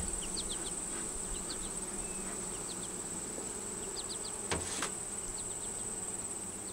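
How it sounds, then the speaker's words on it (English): A steady, droning hum of many honeybees buzzing together in an open hive during inspection, with faint bird chirps scattered in the background. "got plenty of bees on the inner cover"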